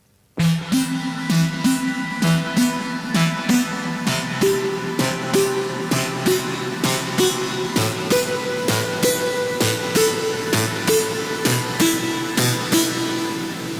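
A bright, layered synth lead plays a steady melodic line over a pulsing beat, sustained and full with a wash of reverb, no voices.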